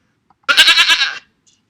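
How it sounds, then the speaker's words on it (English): One short, close goat bleat with a wavering, quavering tone lasting under a second, alone against silence. "Goat."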